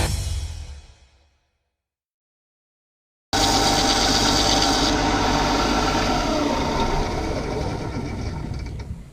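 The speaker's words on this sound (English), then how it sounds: "now it's just spinning it and rounding it on the sander" A wooden pen blank spins against a sander and is rounded off, a loud continuous grinding rub that begins abruptly after a short silence and runs on steadily, easing slightly toward the end.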